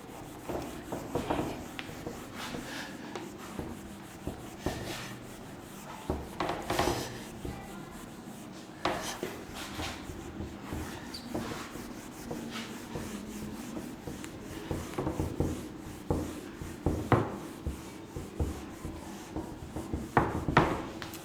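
Writing being rubbed out on a board, a long run of close scratchy rubbing strokes in irregular bursts, some louder swipes standing out over a low background.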